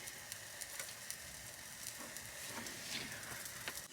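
Egg omelette and tortilla wrap frying in a pan for a quick lunch in a motorhome at a caravan show, giving a steady close sizzle with small crackles and pops throughout and no talking.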